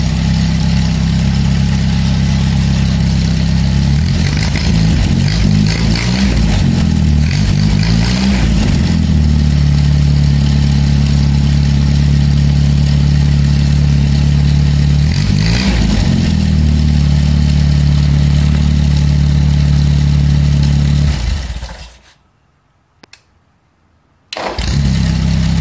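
A 1948 Ford Prefect engine in a homemade tractor runs at a loud, steady idle with a rough, throbbing drone that swells briefly a few times, then cuts off near the end.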